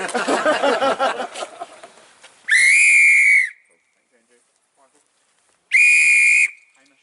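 A whistle sounds two long, clear, sustained notes, each about a second long and separated by a pause, loud and close, after a moment of voices at the start.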